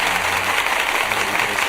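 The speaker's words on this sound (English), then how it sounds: "StreamYard applause" A StreamYard applause sound effect played in a hotel room: a steady, dense wash of clapping at constant loudness, with no voices over it.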